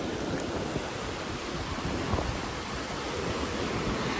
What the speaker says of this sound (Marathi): लिटरली समुद्र उसळला आहे